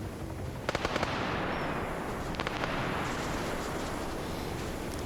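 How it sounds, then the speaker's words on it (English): A quad bike blows up in a video game police raid, heard as a few sharp popping bursts and crackles over a dense, constant roar of gameplay noise. "The quad bike explosion gets them every time."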